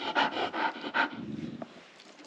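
A dog named Leo pants rapidly and rhythmically up close, quick breathy bursts that slow and fade into quieter breaths near the end.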